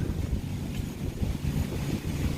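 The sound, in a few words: strong wind after hurricane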